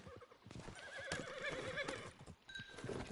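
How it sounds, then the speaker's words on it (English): A horse whinnies and neighs in a video game as it falls, with game sound and hoof clatter around it, fairly loud and close. "O cavalo caiu, cara."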